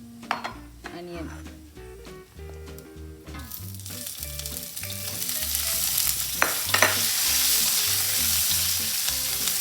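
Onion frying with chili in a pan for a South Indian chutney, with sizzling that swells into a loud, bright hiss partway through, scraping stirs on top and low music running beneath.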